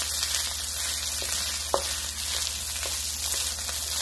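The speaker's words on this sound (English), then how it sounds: "we want this to fry" Ribeye steak fried rice fries in a hot pan with a dense, continuous hiss and crackle, steady and close, broken by one sharp clack of a utensil and a few soft stirring scrapes, with no speech.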